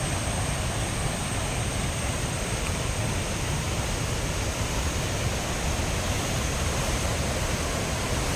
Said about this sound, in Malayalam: കടലിൻ്റെ തിരമാല അടിക്കുന്ന പോലാണ് നമ്മുടെ പെരുന്തേനരുവി അടിച്ച് പാറക്കെട്ടുകളിലേക്ക് കയറുന്നത്